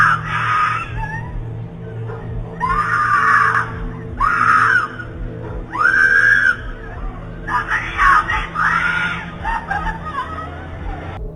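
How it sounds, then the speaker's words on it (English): A young woman screams for help in repeated loud, desperate bursts, caught outdoors by a Ring doorbell security camera over a steady low hum. "You can hear the young lady screaming for help"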